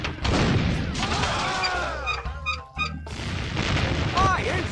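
Gunfire in a pirate battle in an Oculus Quest VR game, with booming shots and bursts mixed with game noise while voices talk over it throughout.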